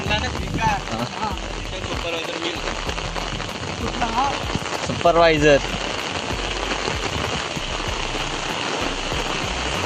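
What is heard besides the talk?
heavy rain falling in a Konkan village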